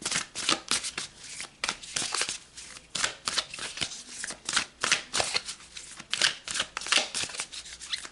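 Tarot cards being shuffled by hand in rapid bursts of crisp riffling and slapping, close and clear, with brief pauses between bursts.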